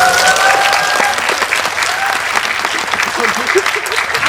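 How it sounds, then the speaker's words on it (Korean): A theatre audience at a stage greeting for the Korean film Hope breaks into loud, dense applause that rolls steadily for several seconds. A few voices and cheers rise faintly beneath the clapping. "박수 한 번만 주세요."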